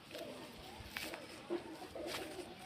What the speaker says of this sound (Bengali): পায়রা ধরে রাখা যাচ্ছে না